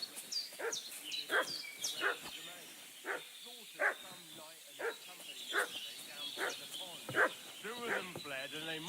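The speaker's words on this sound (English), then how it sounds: "What's that dog making such a fuss about?" A dog in the Kingdom Come Deliverance II video game barks repeatedly and agitatedly, with a steady run of sharp barks and yips at moderate distance, roughly one every second.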